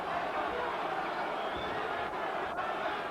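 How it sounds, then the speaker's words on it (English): A boxing arena crowd at a heavyweight bout roars as a round ends, a broad sustained wall of cheering voices that stays loud throughout. "And you'll hear a big roar from the crowd."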